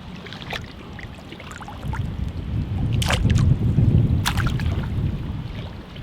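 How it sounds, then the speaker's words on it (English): Wind gusting at a beach in North Myrtle Beach, a steady rumbling roar against the microphone that builds midway, with a few faint knocks and splashes. "Wind is always going to be blowing at the beach"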